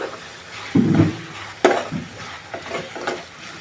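Spoon stirring red chilli sauce into gongura chicken curry in a pan, a few scraping strokes and soft sizzling bursts against quiet background, close and moderately loud.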